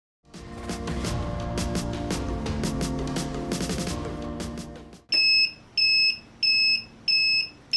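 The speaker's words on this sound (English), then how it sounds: "it's gonna like do like a really loud, annoying alarm sound so that you know to open it" A tumbler sublimation heat press timer alarm: a loud mechanical whir, then a series of five shrill, evenly spaced beeps, close by.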